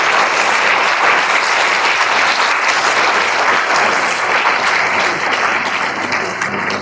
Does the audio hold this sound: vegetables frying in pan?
no